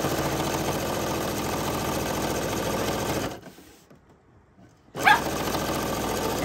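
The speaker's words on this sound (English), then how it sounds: "I come right to the edge, and then I make the needle go up and down and make a knot" A sewing machine stitching a knot on a quilt, running in a steady close whirring hum, pausing briefly, then starting again.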